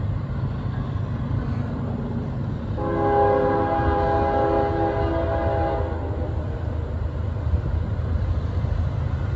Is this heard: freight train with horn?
yes